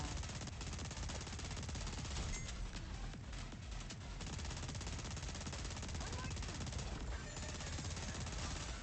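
Dense, continuous automatic gunfire in the video game Goddess of Victory: Nikke, loud and unbroken with rapid bursts layered throughout.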